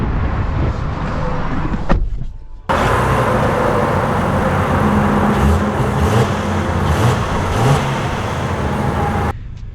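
A 2025 Honda Pilot Black Edition drives on the road, a loud steady cabin rumble of engine and tyres with a short break before the drive noise resumes and holds.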